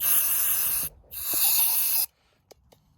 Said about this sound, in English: I'll give this a good spray as well to clean it up